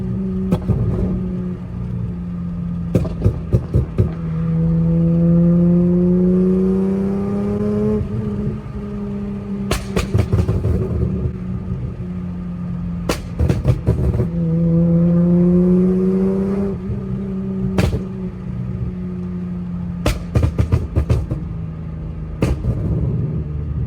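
An Infiniti Q50 with a flame popcorn tune revs up, its exhaust crackling and popping in sharp repeated bursts. The engine drone rises and falls between loud clusters of pops, close and with no voices.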